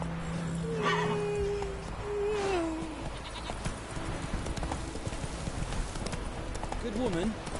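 Roach, the horse in The Witcher 3, gallops with rhythmic hoofbeats on a dirt road, mixed with game speech and a whinny, plus sheep or goat bleats near the end.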